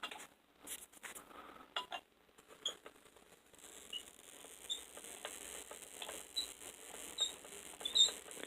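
A Van de Graaff generator near a halogen bulb gives off faint, irregular crackling and ticking discharges over a quiet background, scattered snaps coming and going at close range.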